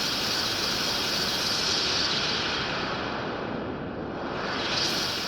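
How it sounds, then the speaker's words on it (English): A designed rocket launch effect: a loud, sustained broadband roar with a resonant filtered swoosh sweeping through it, like something rushing fast through the wind, dipping slightly near the end before swelling again. "maybe we can add some resonance to give it some swooshing sound kind of moving through the wind here"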